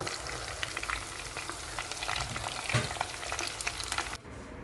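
Cheesy onion rings fry in hot oil with a loud, dense, steady crackle and sizzle that fills the whole stretch, close up, no voices, cutting away sharply just before the end.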